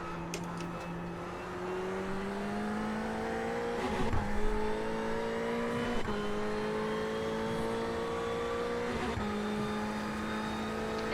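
A race car engine in iRacing at Silverstone during a VRS Sprint Series race: a steady, close, high-revving drone with distinct gear shifts and brief dips a few times, no talk over it.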